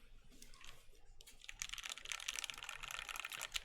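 Keys clatter on a freshly built mechanical keyboard, a Clarabelle fitted with GMK keycaps, recorded up close with a mic. A brief pause gives way to dense, fast typing, and the clicks sound fairly muted and steady.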